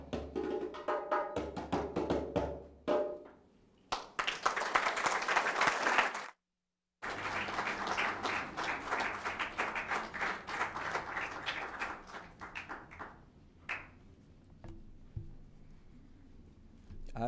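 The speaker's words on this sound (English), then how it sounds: "Another round of applause for them, please." An audience at a 2019 Commonwealth Day celebration breaks into applause, a dense, loud wash of clapping that swells twice, drops out briefly, then carries on steadily before thinning into scattered claps.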